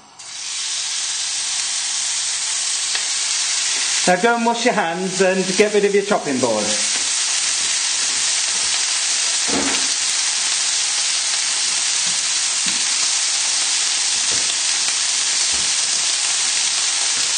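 Lamb pieces sizzle loudly in an oiled pan on a hob, a constant bright frying hiss that runs throughout, with a person talking briefly over it near the start.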